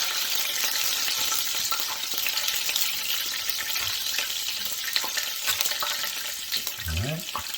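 Party appetizers sear in a hot pan, giving a constant bright sizzle with scattered small pops and, near the end, a brief clatter of utensils.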